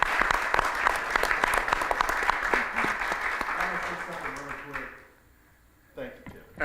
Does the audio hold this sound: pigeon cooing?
no